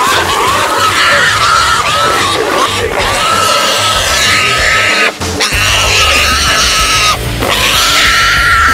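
Loud, continuous pig squeals and grunts fill the clip, harsh and close, with commotion and yelling mixed in throughout.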